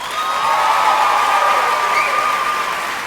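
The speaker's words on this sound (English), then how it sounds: "Let's give them a round of applause." Graduation audience at a high school ceremony applauding and cheering, a loud sustained crowd roar with whoops and shouts layered over steady clapping that swells and then fades a little.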